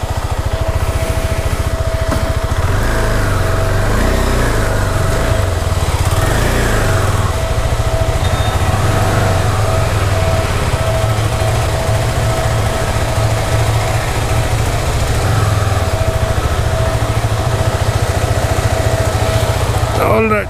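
A new KTM 390 Adventure motorcycle engine runs steadily at idle nearby, a loud continuous throbbing hum that lasts the whole stretch, while people talk over it.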